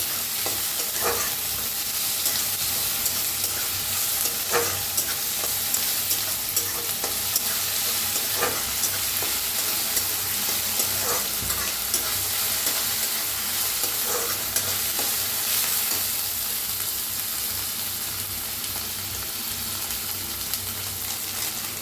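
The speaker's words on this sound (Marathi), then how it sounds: "कांदा छान असा भाजलेला आहे" Onion frying in a pan for a drumstick-leaf dish, a continuous close sizzle with occasional stirring scrapes recurring every few seconds, steady and loud with no talk.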